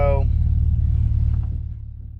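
A 1963 Chevrolet Corvair cruises with its engine running in a low, steady rumble, recently fixed loose mufflers droning close and fairly loud, slowly fading a little; a voice is heard briefly at the start.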